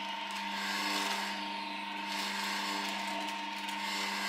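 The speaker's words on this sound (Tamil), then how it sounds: "நீங்க இப்ப பார்த்துட்டு இருக்கிறது 5 கிலோ ஆட்டோ நீடருங்க" A 5 kg dough kneader machine's motor hums continuously with a faint mechanical whine, fairly quiet and even throughout, with no voices.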